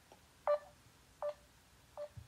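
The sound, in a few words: phone ringing tone heard on a call line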